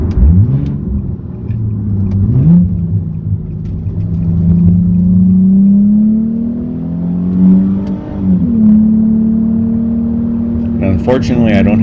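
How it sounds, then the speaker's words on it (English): A Nissan 370Z engine hums inside the cabin, its pitch rising and falling as it revs, over a steady road rumble; a brief clatter comes at the end. "as the engine revs up, the sound pressure drops a little despite the noise becoming more ear-piercing"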